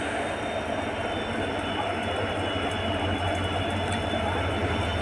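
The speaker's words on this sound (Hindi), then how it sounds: "ये रहा यही लोकोमोटिव अपना" A WDP 4D diesel locomotive from Ludhiana shed at Samastipur Junction gives a steady, loud low engine throb and idle rumble, with a constant high whine above it, unbroken for the whole stretch.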